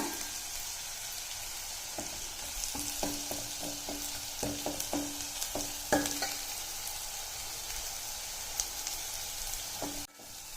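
Small onions sautéing in oil in a pan for chickpea curry, a steady sizzle with repeated scraping stirs of a spatula against the pan at an uneven rhythm, close and clear with no voices.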